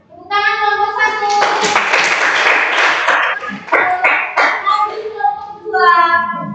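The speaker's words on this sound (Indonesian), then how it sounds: "tepuk tangan kelompok 1" A school class gives a short burst of clapping for a student group, mixed with children's excited voices that surround and carry on after it.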